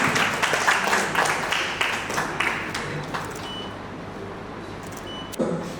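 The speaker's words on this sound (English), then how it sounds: "huge round of applause to Ravi sir as well" Applause from a panel discussion audience, a burst of claps that fades into quieter scattered clapping before a brief sharp sound near the end.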